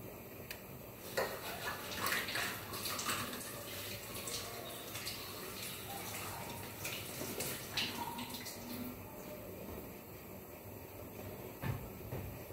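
Tulsi leaves being washed in water: a running tap and light splashing and handling in a sink, fairly quiet and continuous, with a few small knocks.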